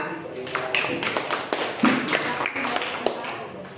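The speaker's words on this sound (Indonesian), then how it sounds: "kita kasih aplaus juga buat tim 4" Classroom applause for a student team during a teaching practice lesson on faith, heard as a dense patter of hand claps with voices mixed in.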